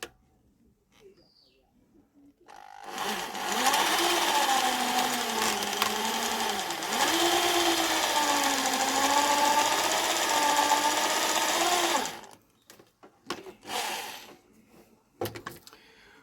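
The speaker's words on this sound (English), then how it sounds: "I'm going to drill now at a constant pressure and let the drill do the work" An electric drill bores a pilot hole in wood while a hiking stick is being made, running steadily for about nine seconds with a whining, slightly wavering motor tone under constant pressure, then stopping, followed by faint workshop clatter.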